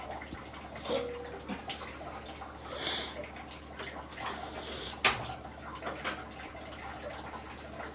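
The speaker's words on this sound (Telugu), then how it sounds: "చక్కెర జస్ట్ అట్లా మునిగే వరకు పాకానికి మనం వాటర్ పోసుకోవాలి" Water trickles and splashes into a pan of sugar at close range for laddu syrup, a soft continuous pour with occasional drips and light clinks, no voices.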